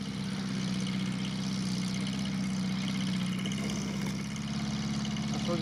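Engine of a ZAZ-968M or Land Rover Discovery 1 on snow chains, running while climbing a snowy slope, a steady low idling-like drone that stays constant throughout.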